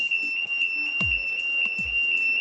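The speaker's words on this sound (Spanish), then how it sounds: "vamos a escuchar una alarma sonora" A gas detector's panic alarm sounds a continuous, piercing electronic tone that holds steady, with a couple of dull thumps in the background and no talking.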